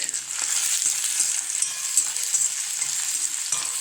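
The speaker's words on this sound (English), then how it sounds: "and saute it well." Green chilies and garlic sauté in a hot pan, giving a steady bright sizzle with faint stirring scrapes throughout, close and continuous, with no talking.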